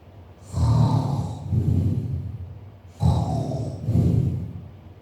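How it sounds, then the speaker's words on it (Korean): Snoring from a dog that fell asleep full after eating a snack: two slow, rhythmic breathing snores with raspy inhales, close and fairly quiet, no talk. "간식을 먹고 배부른 원두가 코를 골며 자고 있네요"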